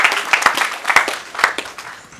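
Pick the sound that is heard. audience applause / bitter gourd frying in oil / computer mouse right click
audience applause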